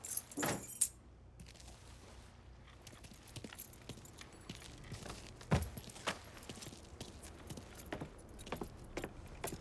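Car keys jangling in the Mafia 3 video game, a close metallic rattle followed by soft footsteps and faint ambient movement.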